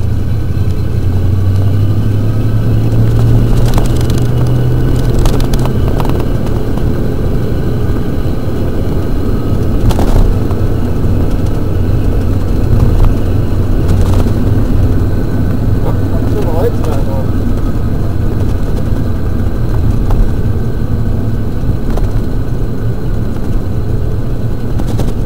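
A Kawasaki Mule utility vehicle drives with its engine running steadily and loud throughout, the transmission's cold, thick gear oil making the gears grind and clunk during shifts, with a brief muffled voice in the mix.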